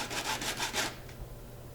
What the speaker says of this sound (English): You want to sand all around it and you want it as smooth as possible.